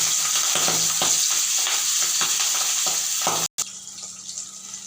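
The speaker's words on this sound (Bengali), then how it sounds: "4 পিস মাছ কড়াইয়ে দিয়ে দিয়েছি।" Pieces of pabda fish go into hot oil in a wok and fry with a dense, close sizzle, broken by a rhythm of soft knocks and a brief dropout near the end.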